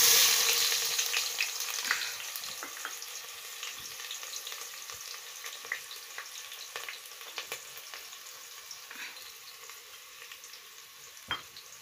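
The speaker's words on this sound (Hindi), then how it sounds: "धनिया अच्छे से ब्राउन हो गया, तो अब हम डालेंगे इसमें प्याज।" Onion frying in oil with browned coriander gives a steady close sizzle that starts loud and settles, with occasional spoon scrapes and taps against the pan.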